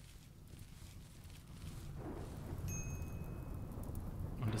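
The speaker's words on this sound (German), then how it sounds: "Und es regnet." Rain falls in the video game RimWorld, a soft hiss that swells into a steady, louder rush of rainfall with a low rumble beneath, and no voices.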